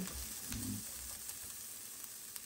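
Onions and carrots sizzle quietly in a frying pan, a faint steady crackle with a few soft clicks, no voices.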